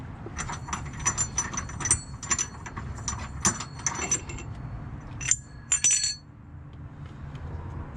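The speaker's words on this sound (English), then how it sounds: "I'm gonna be removing this first bolt, which is 19 mil" A 19 mm suspension bolt on a track-build 86 is worked loose with a ratchet. Quick metallic clicking comes in uneven runs, with sharp clinks near the end, all close and fairly quiet.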